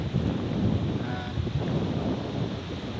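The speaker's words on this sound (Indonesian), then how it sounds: "di sini sekarang saya berada di pantai belakang Hotel On The Rock, di pantai Kelapa Lima" Wind buffets the microphone and surf breaks on the beach at Kelapa Lima behind Hotel On The Rock, a continuous broadband roar with no distinct wave rhythm and no speech.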